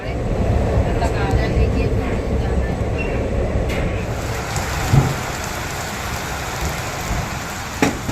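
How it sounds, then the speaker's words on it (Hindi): Heavy rain drums steadily around a train on a journey from Agra to Ludhiana, a loud, constant downpour broken by a couple of short, sharp bursts, with faint voices mixed in. "बारिश तो देखो बंद होने का नाम नहीं ले रही कितनी"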